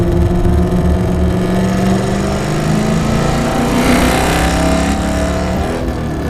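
Race car engine running hard and loud up close, a steady droning roar with shifting pitch as revs rise and fall while the transmission slips out of third gear, no talking.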